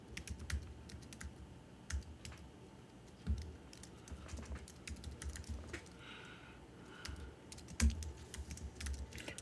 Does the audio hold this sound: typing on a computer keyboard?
yes